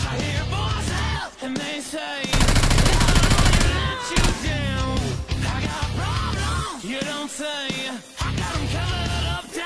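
Gunfire in the video game SCUM crackles in rapid bursts, including a dense stretch of automatic fire, mixed with shouting voices.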